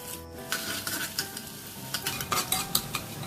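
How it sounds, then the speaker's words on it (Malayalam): Fenugreek seeds, shallots and curry leaves sauté in hot oil in a pan, with steady sizzling and repeated scraping and clinking of a utensil stirring against the metal, close and without voices. "ചട്ടി ചൂടായ ശേഷം എണ്ണ ഒഴിച്ചു കൊടുത്തു കുറച്ച് ഉലുവ ഇട്ടു കൊച്ചുള്ളി ഇട്ടു കറിവേപ്പില ഇട്ടിട്ട് ഒന്ന് വഴറ്റിയെടുക്കാം"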